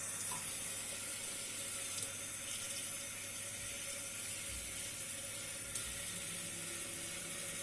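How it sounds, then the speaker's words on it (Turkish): A kitchen tap running steadily into a bowl of yogurt residue, a continuous close splashing hiss of water with no talk, for Turkish tarhana soup. "Yoğurtlu kabımı biraz şöyle su ekleyip çalkaladım."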